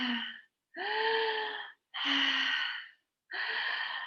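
Deep breaths during a tantric breathing exercise, four slow audible inhales and exhales with short pauses between them, close and clear with no talking.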